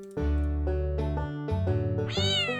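A cartoonish cat in a YouTube Playables video game lets out a rapid run of loud, tonal meows that rise into a drawn-out whine at the end, with no talk.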